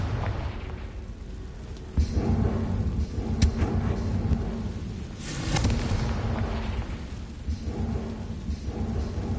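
A Confringo fire spell from the Hogwarts video game bursts with deep rumbling booms, one heavy blast near two seconds and another swell around five, over a continuous low thundery roar.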